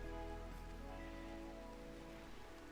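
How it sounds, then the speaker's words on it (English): Steady rain falls in a video game, a faint, even hiss of drops on surfaces running throughout beneath a low tonal hum. "maybe that rain will help a little bit with crops"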